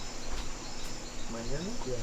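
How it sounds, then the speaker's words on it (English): A steady, shrill cicada buzz drones continuously in the background on a boat on the Amazon River at sunrise, with a faint voice briefly rising under it near the end. "There's cicada."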